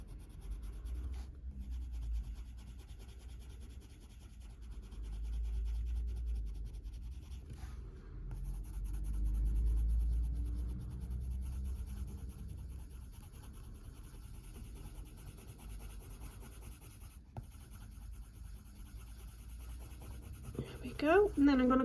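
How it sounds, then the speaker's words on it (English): Blue coloured pencil pressed hard into textured paper during block colouring, a soft continuous scratchy rubbing that rises and falls with the strokes, faint and close, with no talking. "I am just block colouring this, guys, now. I'm really pushing this blue into the tooth of the paper."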